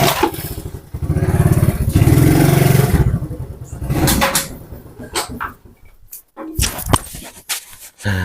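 An old classic motorcycle engine runs close by at a used-bike dealer, a loud rough throbbing that swells for a few seconds, then drops to a choppier idle broken by sharp knocks and clatters.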